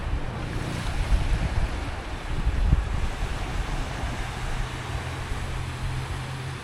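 Waves on Lake Tumba in the Équateur province of DR Congo surge and wash in a continuous ocean-like roar, with heavy wind buffeting the microphone throughout.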